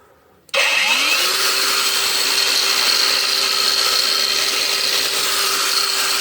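A Razor angle grinder switches on with a sharp start and spins up, then holds a steady, loud, close whine with a constant tone for several seconds, alone without talk.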